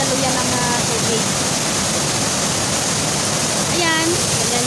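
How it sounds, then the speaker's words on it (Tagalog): A waterfall in the Philippines, the seventh in a series of falls where the water splits into two rivers, roars as a steady, loud broadband rush, with brief faint voices over it. "Ayan yung waterfall, guys."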